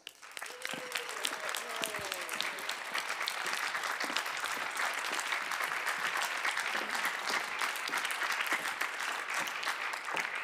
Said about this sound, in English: I'd like to invite them on out right now to their own special applause